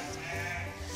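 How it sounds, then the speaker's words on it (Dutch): Sheep and goats bleat close by on a farm with over 1200 sheep, a steady chorus of overlapping calls filling the whole second. "We zijn bij de schip en bij de geiten."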